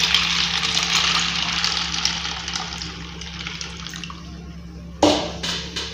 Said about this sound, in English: you pour in 1 liter of water for 1 cup of peanuts